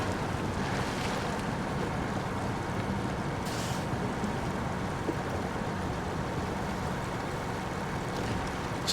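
Broad, steady water wash in the SnowRunner off-road truck game, a continuous surf-like rush with wind noise holding at an even, fairly loud level throughout, without speech.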